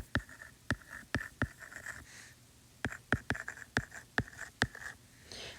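A number being handwritten during a math lesson: a string of sharp, scratchy strokes, some single and some in quick clusters, up close against quiet background.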